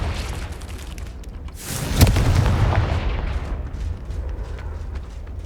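Confringo fire spell blast in Hogwarts Legacy, a deep rumbling boom that swells around the midpoint over a continuous low game ambience, then slowly decays into a fading roar.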